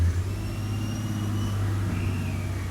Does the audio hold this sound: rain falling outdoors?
no